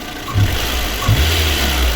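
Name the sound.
VAZ 2109 car engine running after cylinder head repair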